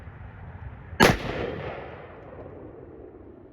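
A 7mm Remington Magnum rifle firing one 160-grain round over a chronograph: a single sharp, loud report followed by a long rolling echo that fades into steady background noise.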